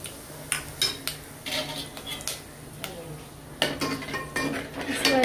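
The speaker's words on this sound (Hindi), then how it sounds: "अभी ये जो चिली फ्लेक्स है ये डाल दूंगी" Chili flakes go into a pan of Kalimirch Chole over a low gas flame, bringing a few light metallic clinks and scrapes of spoon on pan, scattered and close, over a faint steady background hum.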